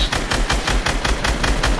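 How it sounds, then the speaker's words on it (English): Rapid automatic gunfire in Fortnite, a continuous burst of about ten evenly spaced, punchy shots, close and loud, with no pauses. "I just shot him"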